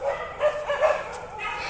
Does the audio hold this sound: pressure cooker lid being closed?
no